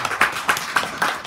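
An audience claps for the panelists at the end of a discussion, with steady, evenly spaced beats of clapping at a moderate level.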